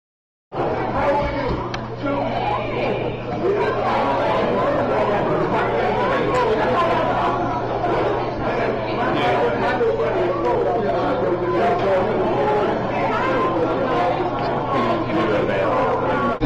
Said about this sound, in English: Primarily a crowd, exclusively a crowd of African Americans.